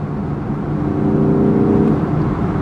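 An Audi R8 with a crackle tune revs with its exhaust valves closed, giving a steady, muffled engine drone that swells slightly and then eases, with no crackles or pops.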